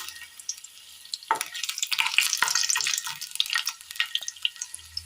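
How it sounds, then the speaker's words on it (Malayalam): Three garlic cloves dropped into heating oil in a pan for a Kerala curry; a close, busy crackling sizzle bursts up after a quiet second and keeps popping irregularly, with no voices. "എണ്ണയൊന്ന് ചൂടായി വരുന്ന സമയം ഇതിലേക്ക് ഒരു 3 വെളുത്തുള്ളി ഇട്ട് കൊടുക്കാം"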